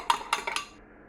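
A Panzanella Bloody Mary being stirred in a glass: three quick clinks of a spoon against the glass, close and bright, then fading to quiet.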